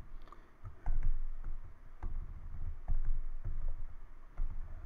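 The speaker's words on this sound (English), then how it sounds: "If I can type." Keys tapped on a computer keyboard while logging in to a VMware server through PowerShell, an irregular series of soft clicks and thumps spread across several seconds, close and fairly quiet, with no voice.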